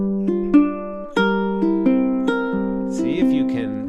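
Ukulele strumming a song in a smooth, flowing pattern, with steady chord strokes accenting the beats and a quicker, brighter flourish near the end, played close and alone.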